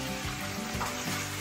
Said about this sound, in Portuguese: Fritou o negócio, Tati?